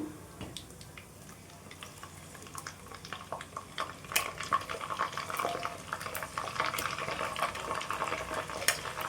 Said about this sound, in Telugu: ఇప్పుడైతే మనం ఆనియన్ పేస్ట్ని వేసుకుందాం ఇందులో.